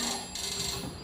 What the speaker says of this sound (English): isn't that where the phone bell rings?